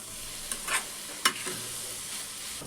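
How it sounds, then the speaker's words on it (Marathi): A spoon stirs veg momo filling in a pan, making a few soft scrapes and clinks over a faint, steady sizzle. "मस्त मिक्स करून घ्यायचं याला."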